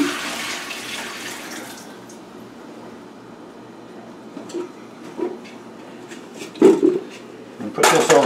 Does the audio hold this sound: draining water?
yes